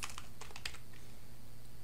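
Rapid keystrokes on a computer keyboard while C++ code is entered, a quick cluster of close, crisp clicks in the first second, then quiet.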